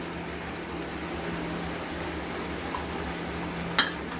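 Continuous stirring of beaten sour yogurt into mutton in a pan for a potato mutton curry, a low steady scraping and faint simmer with a single sharp clink near the end.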